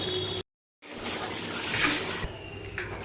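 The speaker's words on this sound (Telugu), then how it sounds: "ఆల్రెడీ ఎసరు పెట్టుకున్నాం కదండి, ఆ వాటర్ ఇందులో యాడ్ చేసుకున్నాము" Water is poured into a pot of simmering chicken biryani masala, a steady gushing splash that starts after a brief silent gap and runs continuously at close range.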